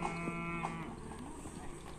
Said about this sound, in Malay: Ini sapinya.